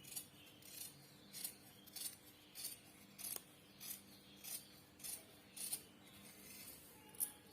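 Scissors snip through cloth while a sleeve is being cut for a ready-made dress, giving a steady run of about a dozen crisp, evenly spaced close-up cuts with no talk.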